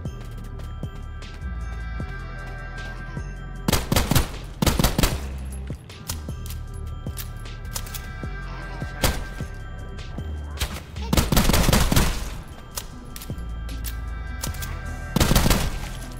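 Light machine gun fire in the video game Sulfur, heard as several loud sustained bursts of automatic gunfire separated by quieter gaps, with a steady game background hum underneath.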